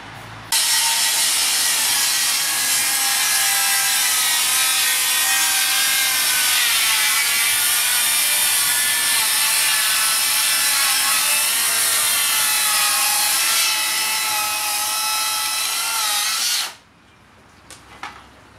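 A Makita cordless rear-handle circular saw rips through timber, one long loud continuous whining cut lasting about sixteen seconds before the blade stops and winds down, no talking.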